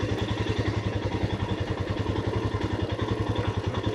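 A motorbike idles and is turned around in a residential street in a Tuscan village. Its mid-pitched engine putters in a steady, close, loud pulsing rhythm, with no talk over it.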